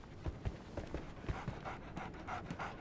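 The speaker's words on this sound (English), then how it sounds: "So, Barnes has a dog now." A dog in the Sherlock Holmes: The Awakened video game pants steadily and rhythmically, close and fairly soft, with no talk over it.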